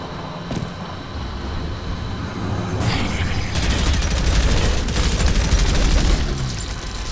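Enemy gunfire in the shooter game Prodeus: a dense, rapid burst of loud shots that grows in the second half over a rumbling background roar.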